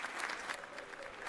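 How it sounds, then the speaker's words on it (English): Studio audience applause at a talk show, a short steady wash of clapping from a room full of people, fairly close and even, with no talking over it. "The crowd got excited."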